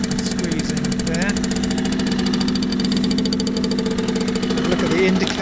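A 2008 Aprilia RS50 motorcycle engine idles steadily nearby, a buzzy continuous two-stroke drone with a fast even rhythm that holds throughout.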